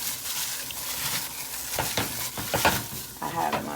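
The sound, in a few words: chicken wings frying in oil in a cast iron skillet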